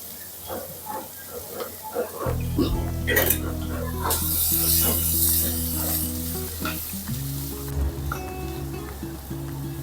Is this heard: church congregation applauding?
no